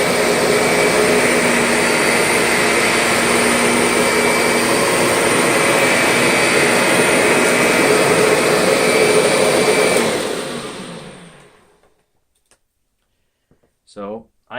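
A Kirby G6 upright vacuum cleaner edge-cleaning medium pile carpet, its loud, steady, roaring whine running close for about ten seconds before it powers down and fades out, with a brief voice at the very end.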